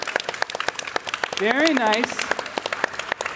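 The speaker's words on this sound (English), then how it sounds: "Let's have a round of applause." Sparse clapping from a small group praising children's drawings, scattered claps under a voice speaking briefly in the middle.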